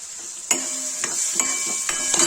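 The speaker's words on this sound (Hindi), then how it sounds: "प्याज अदरक लहसुन भून दिया है तेल में" Onion, ginger and garlic fry in oil in a pan for a Kashmiri rajma and turnip dish. A steady, bright sizzle runs throughout, punctuated by four or five sharp metal clanks from a stirring spoon.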